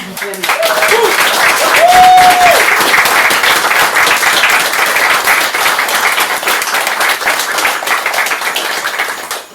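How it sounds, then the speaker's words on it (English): A room at an open mic reading gives a warm round of applause, loud and sustained, with brief voices and a whoop at the start, then the clapping gradually fades. "So we try to give people a second round of applause"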